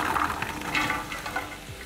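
Vegetables hit a pan of caramelising onions and bacon and fry with a close, busy sizzle and stirring rattles. No voices.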